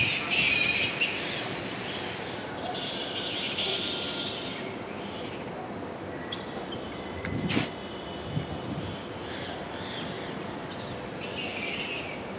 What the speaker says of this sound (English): They're actually bats. Large bats.